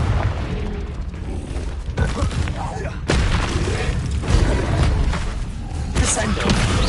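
Confringo blasting spell from the Hogwarts Legacy video game, a string of booming explosive blasts and crashes over dense, continuous battle noise, loud and close.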